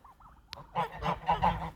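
Geese grazing in a garden give a short run of loud, nasal honks, four or five in quick succession after a faint call and a click, close and alone.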